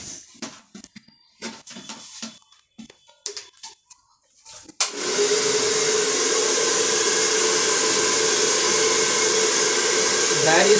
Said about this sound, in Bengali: কাটিং কমপ্লিট হয়ে গেছে, আমি একটু ড্রায়ার ইউজ করব।